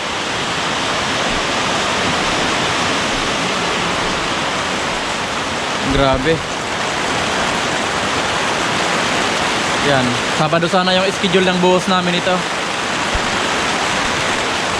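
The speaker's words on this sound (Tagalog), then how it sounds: "Umulan pa." Heavy rain pours onto a residential construction site in Muntinlupa during second-floor slab formwork, making a constant loud, hissing roar. Someone speaks Filipino over it in short bursts.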